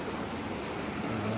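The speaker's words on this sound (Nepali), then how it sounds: "अस्थायी रूपमा यसरी पानी बाहिर गइरहेको छ।" Water gushing out of a temporary drinking-water pipe, a steady, broad rushing roar with no breaks, close and even in loudness throughout.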